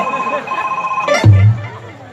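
Mobile phone ringing with a repeating electronic ringtone pattern at moderate loudness, cut off abruptly by a louder low thump partway through.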